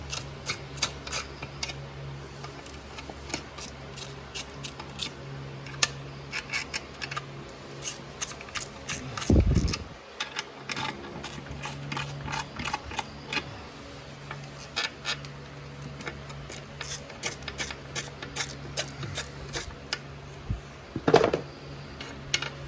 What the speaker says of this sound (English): So let me get my little ratchet and break them loose.